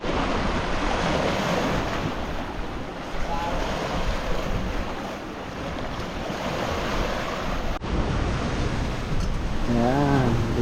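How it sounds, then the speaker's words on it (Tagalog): Strong wind blows steadily over crashing surf, rushing and gusting throughout, with a brief sharp knock partway through and a faint wavering tone near the end. "Ang lakas ng hangin kasi dito"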